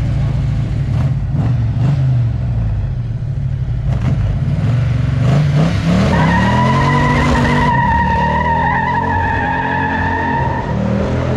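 A car with a 440 engine and 400 horsepower roars loudly through a burnout, its tires squealing in long rising and sustained shrieks over the heavy engine rumble, close and continuous with crowd noise underneath.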